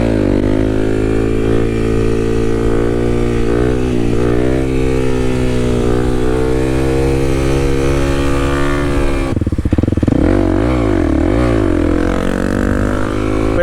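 A Kawasaki KLX300 dirt bike rides along loud and close with a steady engine drone, then the throttle blips and revs rise and fall sharply near the end.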